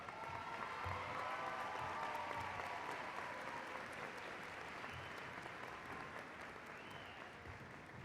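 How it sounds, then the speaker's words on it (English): A graduation crowd gives a round of applause for baccalaureate graduates of a College of Education, sustained clapping from a large hall audience that holds steady and slowly fades a little, heard from some distance. "Ladies and gentlemen, a round of applause for the baccalaureate graduates from the College of Education."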